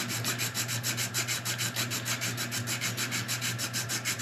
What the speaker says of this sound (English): I'm just gonna sand it down,